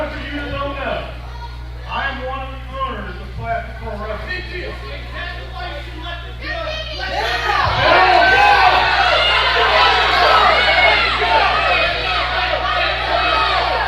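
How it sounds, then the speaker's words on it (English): A wrestling crowd at a CPW show chants in unison. Scattered voices at first swell into a louder, sustained crowd roar partway through, and a steady low hum runs underneath. "Can you believe the crowd is actually chanting, "Let them go"?"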